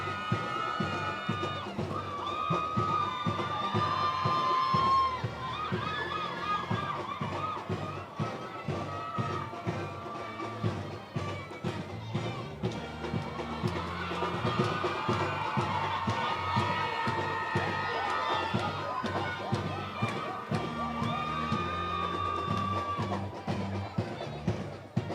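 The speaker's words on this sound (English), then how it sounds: "Keep the applause going, keep the applause going." Crowd cheering and shouting at a passing out parade, a busy mix of many voices with scattered thuds and footfalls, loud and sustained throughout, with music-like tones and no clear single speaker.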